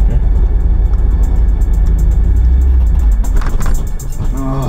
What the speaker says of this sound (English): Let out the clutch slower, but give it gas.